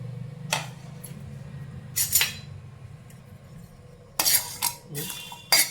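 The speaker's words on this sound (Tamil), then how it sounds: "எண்ணெய் ஊற்ற வேண்டாம், கடாய் லைட்டாக சூடானோன்னா போட்டு வறுத்துக்கலாம்." Dry black chickpeas stirred in a hot kadai without oil, giving scattered clinks and scraping rattles in short bursts, loudest near the end, with no talk.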